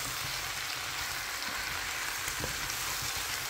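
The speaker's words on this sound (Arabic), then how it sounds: "رح نقليهم مع بعض لياخدوا الطعمات" Boiled shrimp fry in a pan with a spice mixture, a steady soft sizzle with a few small stirring knocks and no talking.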